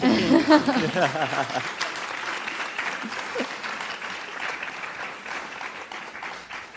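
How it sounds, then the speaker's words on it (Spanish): Applause from a crowd, loud at first and then tapering to a steady, softer patter of clapping that continues to the end. "Podéis aplaudir."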